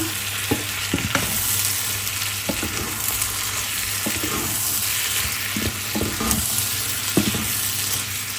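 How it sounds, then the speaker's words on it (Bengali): Sacrificial meat frying with spices in a pan sizzles loudly and continuously, with regular scraping stirs of a spatula and a steady hum in the background. "ভাজি করতেছি মশলাপাতি দিয়ে সব কিছু দিয়ে"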